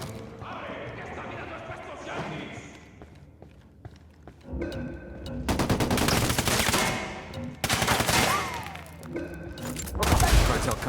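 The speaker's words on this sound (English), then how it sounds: "Taking a shot." Gunfire in Ghost Recon Wildlands: after a quieter stretch, loud bursts of rapid automatic shots and a few booms erupt close by, with footsteps and brief in-game voices mixed in.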